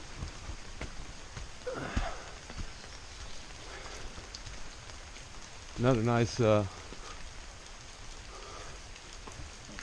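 Steady rain falls in the Red River Gorge outdoors, a constant soft hiss of drops on surfaces throughout, while someone briefly speaks over it.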